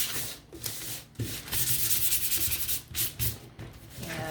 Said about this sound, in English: giving that a light sand.